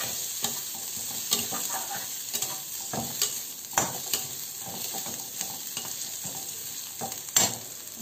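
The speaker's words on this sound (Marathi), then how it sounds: "आता आपण त्याच्यामध्ये कोथमीर टाकूया कोथमीर टाकून थोडस मिक्स करूया" Coriander being stirred into chutney as it fries in a pan, a steady close sizzle with repeated scrapes and clinks of the spoon against the metal, no voices.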